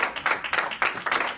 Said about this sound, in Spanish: de un aplauso fuerte al Rey de Reyes